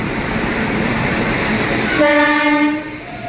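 The Gomti Express pulls into Tundla Junction with a loud, steady rumble of rolling wagons, then a sustained horn blast sounds nearby and fades toward the end.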